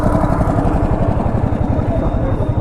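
A motorcycle engine runs with a loud, close, steady low rumble while parked at a crowded Shiva fair, and someone talks over it.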